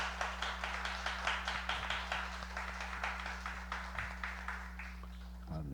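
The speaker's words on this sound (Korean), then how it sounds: "우리 청년들을 우리 한번 박수로 격려해 주시고." A church congregation at a Friday late-night prayer service claps to encourage the youth choir after their worship song, with steady rhythmic clapping over a constant electrical hum.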